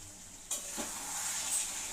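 Curry is sautéed in a pan, a steady close sizzle with a sharp scrape of a stirring spoon near the start, and no voices.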